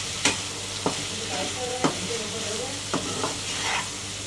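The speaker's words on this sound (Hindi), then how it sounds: "फ्राई कर देंगे।" Chicken fries and is stirred in a pan with green chilies, coriander and mint, a steady sizzle broken by several sharp scraping stirs at irregular intervals.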